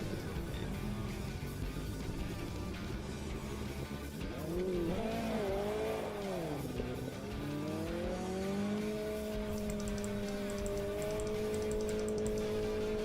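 Racing car engine in the Automobilista 2 sim racing game, revving up and down through gear changes with tire squeal and skidding, then settling into a steady high-pitched drone; loud and continuous, with no talk.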